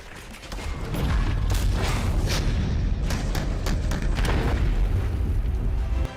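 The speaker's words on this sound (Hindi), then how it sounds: "T-72 अजय टैंक रूसी निर्मित टैंकों का अपग्रेड है।" An Indian Army T-72 Ajay tank, an upgrade of a Russian-built tank, gives a loud, sustained low rumble with rattling mechanical clanks and creaks throughout.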